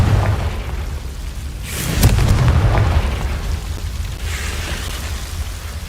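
A Confringo blasting spell in Hogwarts Legacy: one loud booming explosion in the middle, rumbling and fading, with a softer burst afterward over a low ambient bed.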